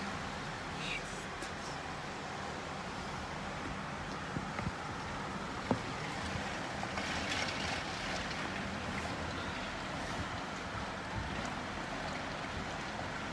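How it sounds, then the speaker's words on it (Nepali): Heavy rain driven by strong wind from the west and northwest lashes against windows in Pokhara, a dense, steady roar that stays loud for the whole stretch, with a few faint knocks. "जोडसहितको हावासहितको पानीले झ्याल ढोका खोल्ने अवस्था नै छैन"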